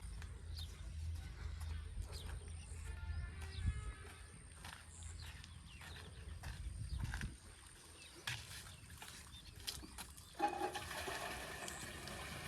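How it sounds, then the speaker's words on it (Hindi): Water from a hand pump in a poor village home is drawn, collected and poured out. Faint, uneven splashing and gushing runs with quiet knocks and rustles, and no talk is heard. "पानी जो है ये कुछ भर के डालना पड़ रहा है नलके से।"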